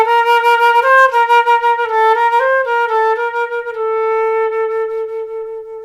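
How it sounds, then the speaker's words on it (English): A solo flute plays a smooth, steady melodic phrase in even, unbending time with no push or pull in tempo, clear and close, ending on a long sustained note. "If I do that phrase with no rubato at all,"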